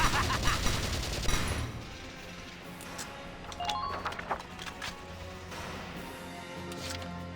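Gunfire from the video game Valkyria Chronicles during urban warfare: a rapid burst of automatic shots opens the moment, followed by scattered sharper single cracks and impacts under a low steady background.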